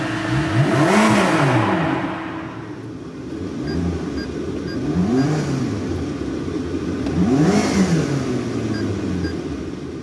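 A McLaren sports car engine revs up and down in three sweeping bursts, loud and close, with a whirring undertone between the revs.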